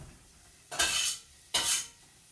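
Chopped vegetable curry ingredients dropped into a pot, two short bright scraping clatters followed by a soft sizzle, close and clear with quiet between them.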